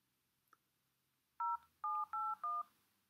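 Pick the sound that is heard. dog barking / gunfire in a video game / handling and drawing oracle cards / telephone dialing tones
telephone dialing tones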